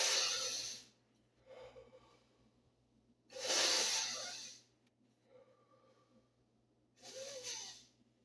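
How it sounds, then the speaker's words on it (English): Slow, deep breaths close to the microphone, three long airy inhales or exhales spaced a few seconds apart with quiet pauses between them. "deep breathing."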